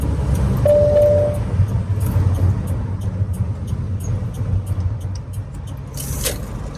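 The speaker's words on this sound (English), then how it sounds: "There appears to be traffic ahead of me, quite a lot of traffic," Car traffic on a road in Ghana, a steady low engine rumble heard from inside a vehicle, with a brief tonal whine early on and a few faint clicks and rattles.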